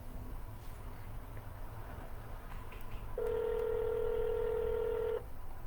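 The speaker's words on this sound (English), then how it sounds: "Let's see if we can get somebody on the phone." Telephone keypad tones for a cold call over low room noise: a few faint short beeps, then one loud steady dialing tone lasting about two seconds before it stops.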